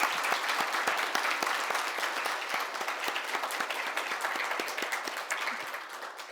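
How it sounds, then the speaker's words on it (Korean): A church congregation applauds in welcome of a visiting missionary from Pakistan, dense sustained clapping from many hands filling the room, fairly even and tapering slightly at the end. "크게 박수로 환영하겠습니다."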